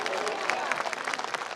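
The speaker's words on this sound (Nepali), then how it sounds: "प्रभुलाई ताली दिनुहोस्" A congregation at a church prayer gathering claps together in a steady, dense burst of applause, with murmuring voices mixed into the clapping throughout.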